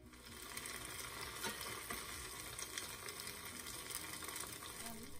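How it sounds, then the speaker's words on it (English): Ancient Roman sweet treats fry in hot fat, giving a steady, faint crackling sizzle that runs evenly without pause. "And now let's listen to that sizzle."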